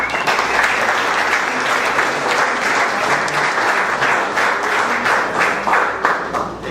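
Warm audience applause welcoming panelist Peter Zalewski at a university real estate seminar, a dense, loud, sustained crowd clapping that holds steady throughout.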